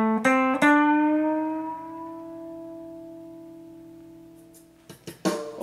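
Guitar playing part of a solo: a few plucked notes, then one long sustained note that rings and fades slowly, followed by a couple of quick new picks at the end, played alone.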